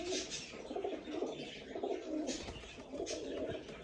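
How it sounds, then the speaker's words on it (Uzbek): Pigeons coo at a bird market, soft repeated low cooing calls close by, with a hum of background activity and no talk. "ko'proq ushalgan kaptarlar ham qo'yiladi."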